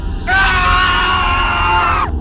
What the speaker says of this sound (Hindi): भयानक चीख मारी